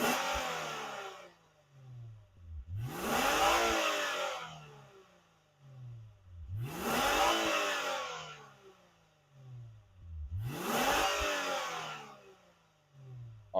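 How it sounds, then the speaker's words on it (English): A Lexus IS 350 F-Sport's 3.5-liter V6 revs through its dual exhaust in four strong, evenly spaced bursts, each climbing sharply and falling back to a low idle between them, loud and close with no talking. "Let's see how this dual exhaust sounds."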